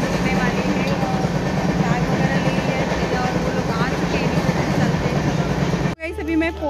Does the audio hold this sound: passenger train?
yes